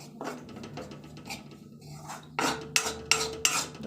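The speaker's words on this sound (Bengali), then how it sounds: "তো দিয়ে এটাকে নাড়াচাড়া করে নেবো, ভেজে নেবো" Flour is stirred and fried in hot oil over a low flame, heard as scraping and clinking of a utensil against the pan, with several sharper metallic knocks toward the end.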